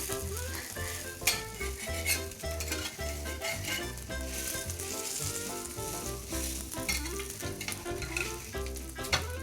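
A breaded cottage cheese steak sears in a greased pan, giving a continuous close sizzle with light crackling and occasional clinks of a utensil.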